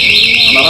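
Locator alarm on a parked Joy e-bike gives a loud, steady high-pitched electronic tone, sounding continuously and close by.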